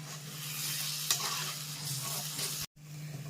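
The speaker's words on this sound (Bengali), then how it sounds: "গ্যাস কমিয়ে এটা আস্তে আস্তে কষাতে হবে।" Turmeric and spices fry on low heat, a steady, moderately quiet sizzle with a constant low hum and occasional faint stirring scrapes, cut by a brief dropout near the end.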